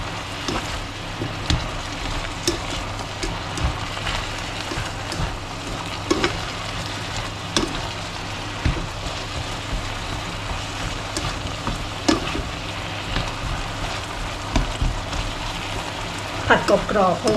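Wild choy sum is stir-fried until crisp in a pan, an even close crackling sizzle broken by frequent spatula clacks and scrapes against the pan.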